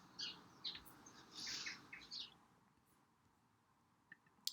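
Birdsong sound effect cued in QLab theatre playback software: several bright chirping phrases and short tweets over a faint low hum, fading to quiet with a couple of sharp clicks at the end.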